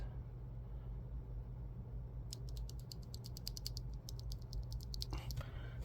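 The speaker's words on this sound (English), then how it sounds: "This is the sound of the linear switch." Royal Kludge RK96 keyboard with yellow linear switches, a quiet burst of rapid light clicks and clacks of keys being pressed, faint against a steady low hum, followed by a duller knock near the end.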